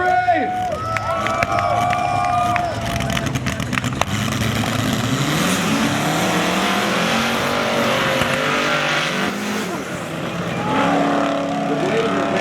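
Drag race cars roar past at a spectator drags event, a Blazer running head-to-head with a Camaro, engines loud and revving amid crowd noise and talk.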